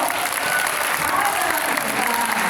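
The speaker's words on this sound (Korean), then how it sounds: "박수 한번 주세요" An audience at a talk applauds in a steady, continuous wash of clapping throughout, moderately loud and unbroken, with a voice faintly audible beneath it.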